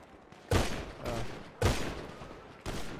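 Gunfire in a Grand Theft Auto gang shootout from a rooftop: three loud, sharp bursts spaced about a second apart, each with a ringing tail that decays before the next volley.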